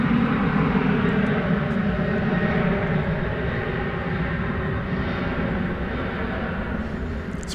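An ABX Air jet flying for DHL departs a large airport toward Cincinnati, giving a steady, distant roar and rumble that stays level and fades slightly, with no voices over it.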